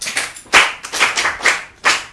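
An audience applauds a child at a children's storytelling programme, with several distinct bursts of clapping spaced across the moment, fairly close and lively.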